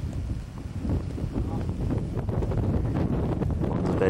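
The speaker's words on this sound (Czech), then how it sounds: "ošklivě fouká tam vítr" Strong wind buffets the microphone outdoors on a high, exposed spot, a continuous rumbling roar with gusty rustling and no clear speech over it.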